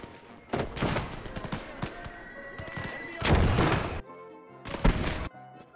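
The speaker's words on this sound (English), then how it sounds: "Oh, we got enemy mortars?" Enemy mortar and machine-gun fire in the WWII game Gates of Hell: a series of loud, booming blasts and rattling bursts, some close and heavy, separated by short quieter gaps, with faint talk underneath.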